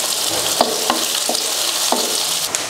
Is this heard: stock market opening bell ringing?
no